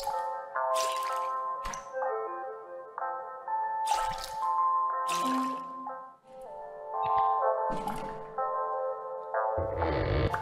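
A video game balloon sound effect: a playful sequence of tonal chimes interspersed with squishy, rubbery squeaks and splashy bursts, several events over about ten seconds, close and clear with no talking.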